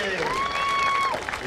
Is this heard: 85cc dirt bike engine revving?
no